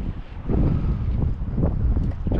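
Strong gusty wind buffets the microphone while striper fishing on the shore of the San Francisco Bay Area, a steady low roar with rising and falling gusts and no talk.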